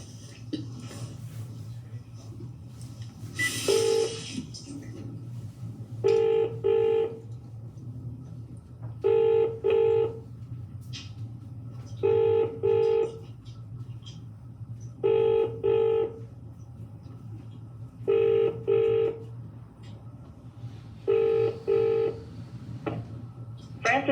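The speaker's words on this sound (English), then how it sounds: "See if Miss Gwynn picks up the phone." A phone line rings out during a call, giving evenly spaced pairs of trilling ring bursts repeated about seven times over a constant low hum, with a voice speaking early on.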